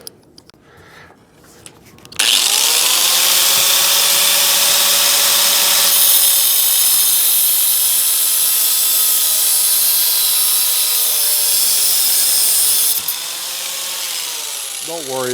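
A power tool cuts through a car's radiator core support, a loud, steady whine with strong harmonic tones starting after about two seconds and running nearly unbroken, its pitch sagging slightly near the end, with no talk over it.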